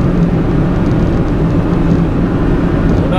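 A worn-out old kei truck's engine drones loudly and steadily under full throttle, a constant low, rough roar with road and wind noise that never lets up.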